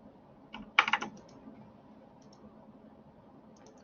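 A computer keyboard clicks while drafting in AutoCAD 2020: a short burst of quick keystrokes, then a few sparse faint taps and a final click, close and quiet in a still room.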